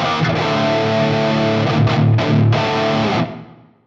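Heavily distorted electric guitar plays a metal rhythm tone through a Fractal Audio unit, with loud sustained chugging chords and a couple of brief cuts before it rings out and fades.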